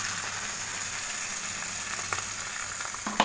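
Water hits a hot cooking pan and sets off a continuous broad hiss of sizzling that holds steady throughout, with a few faint clinks toward the end; no voices.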